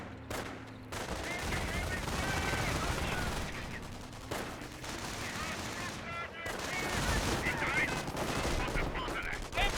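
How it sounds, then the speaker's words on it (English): MG42 machine gun fire in the Company of Heroes 1 real-time strategy game, with sustained bursts and rattling gunfire over the full battle scene as someone talks over the action. "MG42 looks like not getting hits on that rifle squad, even though they're point blank"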